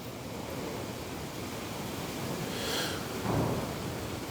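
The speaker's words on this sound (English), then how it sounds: "I got ice, little ice balls hitting the top of the building right now" Small ice pellets patter against a building roof in strong wind, a dense, hissing wash of noise with gusty swells and no voices.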